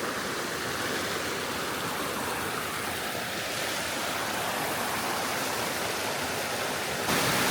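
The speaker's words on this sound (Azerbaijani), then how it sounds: "Gəldik, çatdıq Bibiyoni şəlaləsinə." Bibiyoni waterfall in the green hills of Lerik, Azerbaijan, pours down in a loud, dense, unbroken hiss and roar of rushing water heard up close, with no voices.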